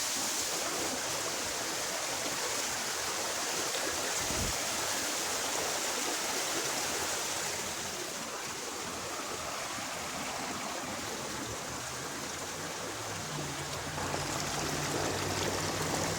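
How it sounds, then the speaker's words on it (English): Water pours steadily out of an opened flume dump on a waterwheel microhydro setup, a continuous broadband rushing like a stream or small waterfall, close and fairly loud throughout with no talking. "See, there that goes, and then there's all the water."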